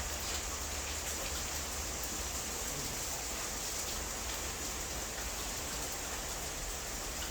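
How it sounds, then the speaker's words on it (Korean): Steady rain falls as a dense, even hiss that continues unbroken, with no voices over it. "비가 오는가 보네."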